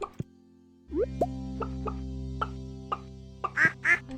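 Ducks quacking in the farming video game Stardew Valley: a few short, clear digital quacks and soft plopping blips scattered across a few seconds over a steady low musical drone, no talk.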